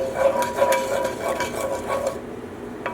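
Scraping and stirring of cauliflower mash with a utensil against a bowl, no whisk, in a home kitchen making Parmesan cauliflower mash; repeated close clinks and rasping strokes in a steady rhythm, fading near the end.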